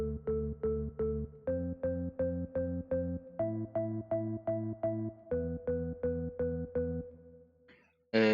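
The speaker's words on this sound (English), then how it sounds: "And the organ pattern looks like this." A house organ chord pattern from an M1 plugin split preset pulses in short, evenly spaced stabs, shifting chords every few beats, with a low filter sweeping over it before it fades out, played alone.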